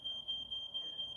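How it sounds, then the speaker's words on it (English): A household smoke alarm, set off by crumbs from a toaster, beeps continuously with a steady shrill high tone that runs alone through the whole short stretch. "my fire alarm had an issue recently, and it's super freaking sensitive"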